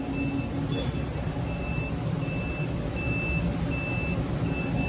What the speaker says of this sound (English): my recovery machine is beeping